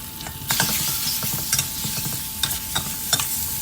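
Beef stir-frying with chili and garlic paste in a hot pan, a constant sizzle broken by repeated scraping and clinking strokes of a spatula at an uneven rhythm.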